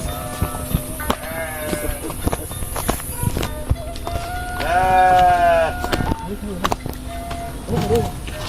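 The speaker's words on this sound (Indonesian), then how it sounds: "Sedang gembala domba." Garut sheep bleat repeatedly while being herded outdoors, several loud, wavering calls close by, mixed with footsteps and people talking.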